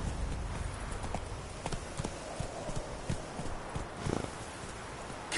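Geralt's horse Roach trotting in The Witcher 3: Wild Hunt, a steady rhythmic clip-clop of hooves, moderately close, with faint background ambience.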